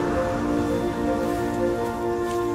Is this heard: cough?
no